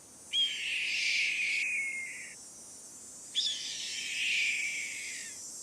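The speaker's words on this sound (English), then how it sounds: "Red-tailed hawk." A taped red-tailed hawk call in a Nancy Drew game: two long, harsh, descending screams with a pause between them, clear and heard alone.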